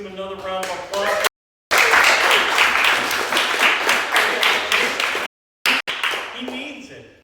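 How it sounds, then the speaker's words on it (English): An audience claps steadily for several seconds at a poetry festival in Belle, Missouri, a dense, loud wash of hands that tapers off. A voice speaks briefly before and after the clapping. "Let's give him another round of applause."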